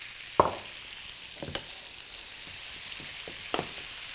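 Pre-sliced onions added to butter in a pan slightly off the heat, giving a steady soft sizzle with a few sharp clacks and stirring knocks, close and moderate, with no talking.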